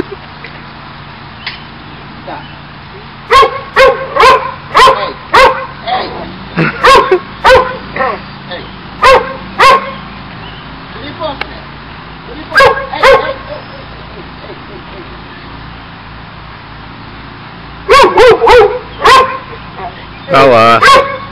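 A dog barks in sharp bursts, clusters of quick yips separated by pauses, close and loud, with soft background noise between.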